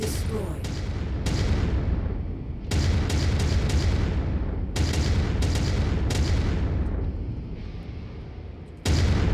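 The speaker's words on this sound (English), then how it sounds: "I think we blew up some of his ammo." Repeated heavy booms and explosive bursts from a mech's ammunition cooking off in MechWarrior 5: Mercenaries, loud and close, arriving in several sharp onsets over sustained rumbling battle noise.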